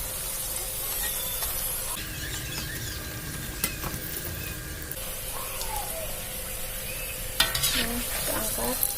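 Crispy pempek frying in hot oil during a first, short fry, giving a steady sizzle with crackling pops and occasional stirring clatter throughout, fairly close and without talk.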